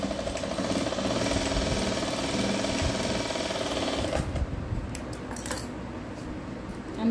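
A sewing machine stitches the shoulder of a blouse, a continuous rattling drone near the microphone that stops partway through, leaving quiet clicks and light handling sounds.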